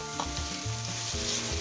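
A pizza topping mixture for a burger pizza, dressed with sauce, sautés in a pan while a spoon stirs it, giving a steady close sizzle broken by soft scraping thumps every few tenths of a second.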